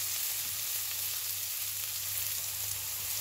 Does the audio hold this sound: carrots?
yes